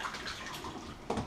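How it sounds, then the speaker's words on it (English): Running water from a tap or basin rinses shaving gear used for a straight razor shave, a steady close splashing flow that briefly surges louder near the end. "Obviously rinse all your gear off."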